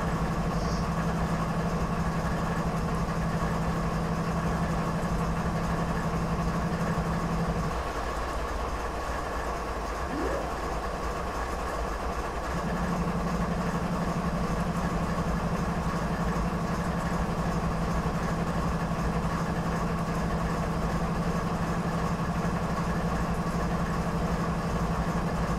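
A freight locomotive in Train Simulator 2015 idles with a steady low diesel hum and drone, briefly dipping in tone partway through before settling back to its even rumble.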